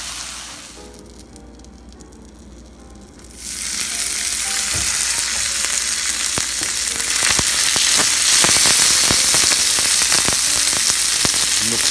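Sisig made from lechon head sizzling on a hot plate, quiet at first, then bursting into a loud, steady crackling sizzle with dense spitting pops that continues to the end.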